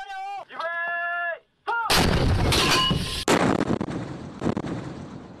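A military artillery piece fires live rounds during a high-plateau exercise in Xinjiang, a massive close blast that rumbles and rolls away over several seconds, after a short stretch of someone speaking.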